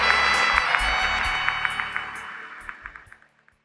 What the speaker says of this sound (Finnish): Suuret aplodit tälle maailman naiselle.